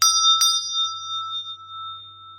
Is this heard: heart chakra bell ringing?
yes